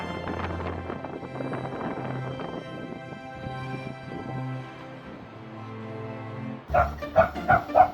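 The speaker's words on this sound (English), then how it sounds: "That dog must be waiting for Jesus." A dog barks several times in quick succession near the end, loud and close, following a stretch of quiet music.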